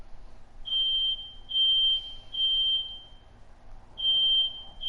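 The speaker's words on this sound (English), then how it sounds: "And now I think that might be the fire alarm." A fire alarm goes off indoors with four loud, piercing electronic beeps in a steady on-off rhythm, each lasting about half a second with short gaps, heard close and alone against a quiet room.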